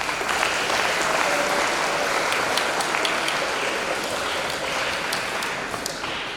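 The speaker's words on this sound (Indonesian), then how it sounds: "Tepuk tangan." An audience at a Friday sermon gathering breaks into applause, a dense, steady wash of many hands clapping that holds evenly for several seconds with no talk over it.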